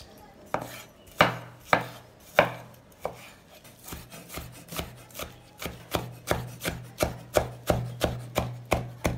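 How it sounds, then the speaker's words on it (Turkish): Tomatoes being chopped with a knife on a cutting board while preparing a beef tongue dish, a long series of crisp rhythmic knocks that start slow and spaced, then speed into a steady quick chopping pace, close and clear. "Domates de doğruyoruz."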